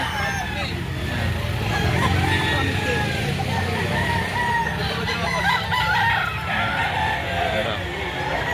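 Roosters crowing and hens clucking at a chicken market, a busy, noisy setting with people talking and traffic rumbling throughout.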